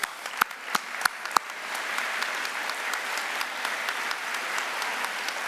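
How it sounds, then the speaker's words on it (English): A charity event audience applauds a young guest: a few sharp, distinct claps first, then a steady crowd applause swelling and continuing evenly to the end. "please give her a round of applause"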